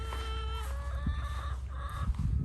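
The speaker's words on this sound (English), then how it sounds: "excuse the mess, I got my chickens here" Chickens cluck and squawk close by, several overlapping calls in quick, irregular bursts.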